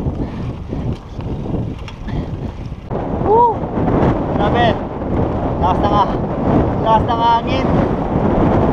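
Strong wind buffets the microphone in heavy gusts while mountain biking uphill in the Sierra Madre, with voices and whistling breath breaking through intermittently.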